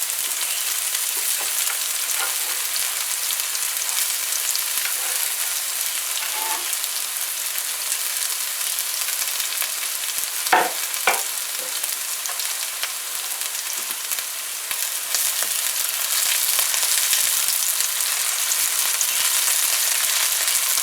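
Scallions sizzling in a hot pan where green plantains are frying, a steady bright crackle throughout with a few sharper pops and stirring scrapes partway through, close and fairly loud, no talking.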